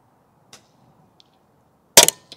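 A single loud gunshot at an outdoor shooting range, a sharp close crack with a short tail, preceded by a few faint ticks in near silence.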